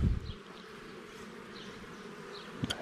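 Honey bees buzz steadily and close by during a honey harvest, a continuous droning hum with a few faint clicks and a short knock near the end.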